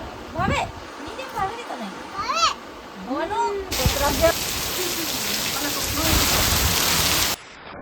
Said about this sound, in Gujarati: અત્યારે જ વરસાદ રહ્યો છે